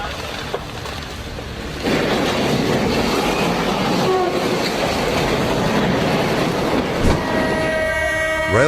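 A train rumbles past with rhythmic clatter of wheels on track, then a loud horn blares near the end.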